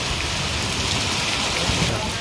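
Heavy rain pours steadily and loudly during a storm near a village temple, a dense continuous hiss with no break.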